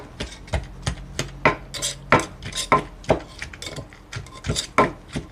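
Boiled eggplant pounded in a mortar for a Thai eggplant and mackerel dip, a steady run of close, dull wooden thuds, roughly two or three per second, with wet squelching and scraping between strikes.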